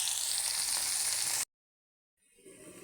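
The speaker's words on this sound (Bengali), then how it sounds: "তার জন্য আমি চিংড়ি মাছ ভেজে নিচ্ছি।" Shrimp fry in a pan with a bright, loud hissing sizzle that stops suddenly, followed by a brief silence and then a softer, quieter sizzle.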